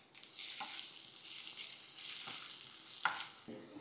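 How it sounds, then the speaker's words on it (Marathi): Garlic, ginger, spices and onion are sautéed in a pan, with a continuous soft sizzle and a few clinks of stirring against the pan, fairly quiet and without speech. "पहिले लसूण घातला, मग आलं घातलं, मग मसाले घातले, कांदा घातला, हे आपण छान परतून घेऊ"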